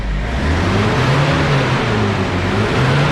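A turbocharged car engine revs after a wastegate adjustment, a steady, close, droning rev with slight rises and dips, and no talking.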